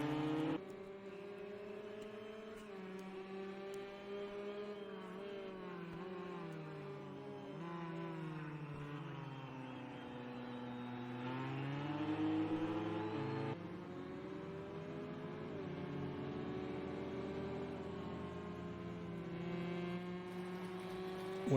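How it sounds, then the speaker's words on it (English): Corvette V8 and Ford GTE race cars brake into a hairpin, a continuous layered engine drone of deep V8 notes under a higher whining Ford, with pitch sweeping down and up as the cars slow and accelerate at a distance. "What a difference in engine sound as you hear the Corvettes heading into the hairpin back behind this high whining Ford"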